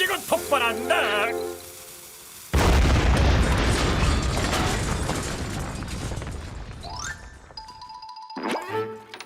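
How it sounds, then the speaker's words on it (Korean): A cartoon explosion in a SpongeBob SquarePants episode: a sudden loud broadband blast about a third of the way in that rumbles and decays over several seconds, with cartoon effects and brief voices around it. "이제 곧 폭발한다."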